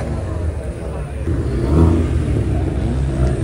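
A modified Toyota Yaris engine revs with a loud, rumbling exhaust at a night car meet, a steady low drone that swells around the middle and holds, with voices talking over it nearby.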